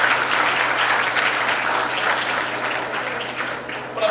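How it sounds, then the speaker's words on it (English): A college audience at an institute event applauds loudly, a dense, continuous wash of many hands clapping close by that slowly tapers toward the end. "Give that round of applause for everybody who's here."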